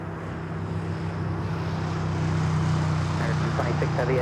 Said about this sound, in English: we got our next heavy takeoff here on the south